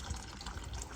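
Water flowing into the piping of a steam boiler system during an oil-to-gas conversion, a steady close rushing and gurgling with faint drips, continuous throughout.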